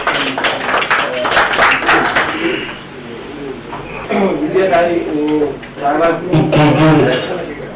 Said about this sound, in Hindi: लोग के लिए जोरदार तालियां